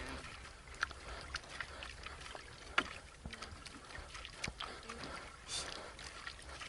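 A small boat being paddled toward Lamanok Island in Bohol, with soft intermittent paddle splashes and knocks against quiet water and light wind, faint and fairly distant.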